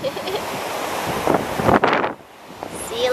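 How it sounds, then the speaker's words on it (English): Strong wind roars across a beach with surf crashing, loud buffeting gusts hitting the microphone before dropping off sharply near the end. "On the strip and it's really windy."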